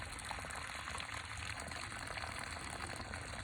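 Steady rushing water pumped from a well pours and gushes continuously at close range, a constant dense splashing flow with no pauses.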